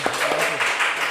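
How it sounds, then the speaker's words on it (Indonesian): An audience applauds for about a second during a talk hosted for a high school teacher and referee, a short burst of dense clapping with faint voices underneath. "Ya, tepuk tangan dulu"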